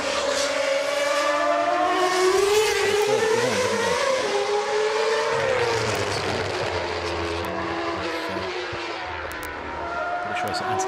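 A 2011 Red Bull Formula One car driven by Sebastian Buemi screams past at a festival hillclimb, its high engine note rising and then sliding down as it shifts and fades, loud and close.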